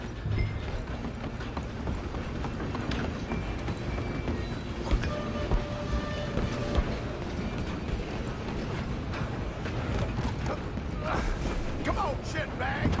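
A steam train runs in the Red Dead Redemption game with a dense, steady rumble and clatter of wheels on rails. Horse hooves clop and voices shout over it throughout.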